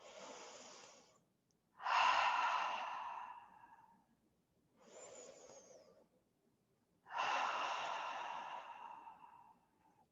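Gentle yoga breathing exercise with audible ha breaths: four close, breathy exhalations and inhalations in an unhurried rhythm, two softer and two louder, separated by brief silences.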